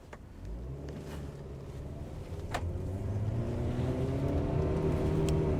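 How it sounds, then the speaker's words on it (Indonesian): Mitsubishi Xpander Cross in Sport mode driving on a closed test track, engine note rising steadily as it accelerates, interior road noise growing louder, with a few brief clicks and no talking. "sekarang kita mau coba rasanya nyetir si Xpander ini di trek tertutup yang udah dibikin sama Mitsubishi ya"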